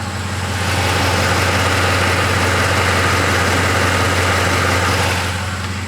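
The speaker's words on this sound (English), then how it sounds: "Engine is just perfectly smooth. There's no ticks, there's no clacks, there's no clatter of the chain of any sort." A Ford F-150 with the 5.4L 3V Triton V8 idles smoothly up close, a steady low drone with no ticking or rattle, loud and unbroken for about six seconds.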